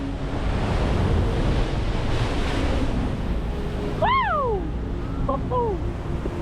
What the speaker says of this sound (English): the ocean didn't give me a chance to keep exploring, but instead I captured my favourite hydraulic action